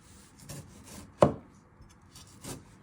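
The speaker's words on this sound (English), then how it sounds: "you want to chop them not too small" A knife chops food on a cutting board in the kitchen, cutting pieces into finger-sized chunks while a pork steak and spaghetti meal is being prepared. Three or four separate thuds land close to the mic with one sharp strike in the middle, and no one speaks.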